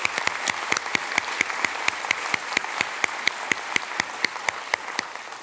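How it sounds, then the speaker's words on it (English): An awards luncheon crowd applauds the day's honorees, sustained even clapping with a few sharp, close claps standing out at a regular beat above the steady wash. "how about one more round of applause for Bob Webster and all of our awardees today"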